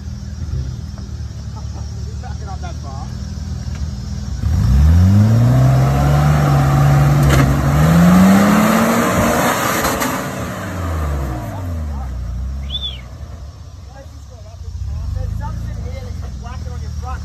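A 4x4 engine revs hard while climbing a steep hill track in the Watagans, the pitch rising and falling in a long loud surge through the middle, with people talking around it.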